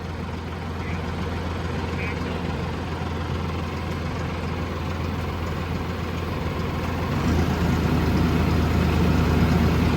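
A heavy tractor engine idles steadily with a low, constant rumble while unloading large crates, growing slightly louder near the end.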